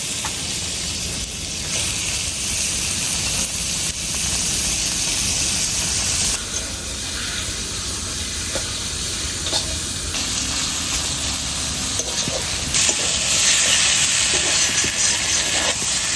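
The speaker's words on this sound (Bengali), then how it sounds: "মশলায় তেল ছেড়ে দিয়েছে, এবার ধুয়ে রাখা খাসির মাংসগুলো দিয়ে দেবো।" Washed mutton pieces frying in spiced oil for a Bengali-style mutton kosha, loud continuous sizzling and hissing with stirring scrapes, the intensity rising and falling as the meat is moved in the pan.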